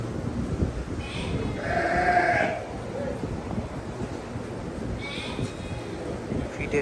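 Boer goats bleating on a farm, a couple of clear bleats rising over steady wind and background noise, with a second call later.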